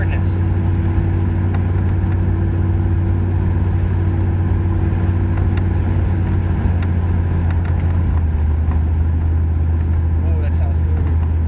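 A 2001 Dodge Ram 2500 rolls along on new tires, its loud, close engine droning low and steady with continuous road rumble for the whole stretch.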